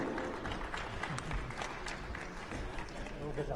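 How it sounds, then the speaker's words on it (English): Steady applause from a conference audience fills the whole stretch, a dense wash of clapping at moderate distance with voices mixed in. "A round of applause for Mimi."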